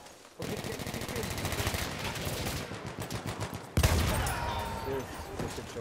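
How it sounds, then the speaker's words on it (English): MG08 heavy machine gun in a Battlefield-style World War I shooter match on Argonne Forest: sustained rapid automatic fire, loud and continuous, with a heavier burst near the end and a player's voice faintly underneath. "Look at him, he's using MG08!"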